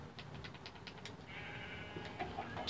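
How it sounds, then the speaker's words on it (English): A sheep bleats faintly in short wavering calls, followed by a thinner sustained tone and a sudden louder sound at the very end. "Sheep."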